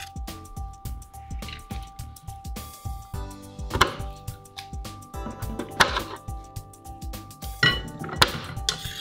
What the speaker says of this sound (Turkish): Al bakalım turşuları da doğra. Ben ikiye keseyim.